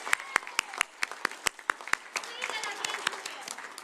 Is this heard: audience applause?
yes